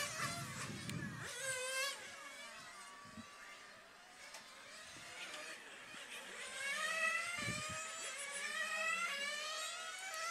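Several 1/8 scale nitro RC race cars at a European track championship buzz and whine as they drive back into the pits, high engine notes overlapping and fading, with faint background noise.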